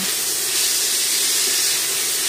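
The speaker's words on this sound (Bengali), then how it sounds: "এরকম 2-3 বার ঢাকা দিয়ে দিয়ে একটু নাড়িয়ে নাড়িয়ে সব সবজিগুলোকে ভেজে নিতে হবে।" Mixed winter vegetables sizzle and fry under a lid in a pan, a close, steady, loud hiss with no break and no voices.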